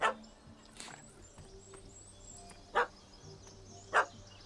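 A dog in The Witcher 3 barks at a cat up a tree: three or four sharp, separate barks spaced a second or more apart, mid-distance over quiet game ambience with faint bird calls.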